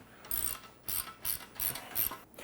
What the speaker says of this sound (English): I'm gonna grab a couple 13mm wrenches